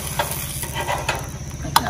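Bánh khọt, small Vietnamese rice-flour pancakes, frying in a pan with a steady soft sizzle, light scraping or stirring and one sharp metallic tap near the end.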